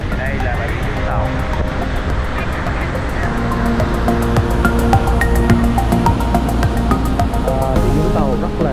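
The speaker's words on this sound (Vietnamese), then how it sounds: "Vũng Tàu rất là sóng, rất là mạnh, rất là nhiều" Strong, wind-driven ocean waves at Vũng Tàu beach make a loud, continuous rushing wash that runs the whole time beneath a person talking and tonal background sounds.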